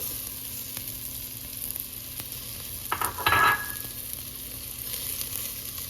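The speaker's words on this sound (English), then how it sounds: "Once onions are nice and golden, then go ahead and put in the garlic" Garlic and ginger hit hot oil with golden onions, giving a steady sizzle and a brief louder burst of frying and stirring midway.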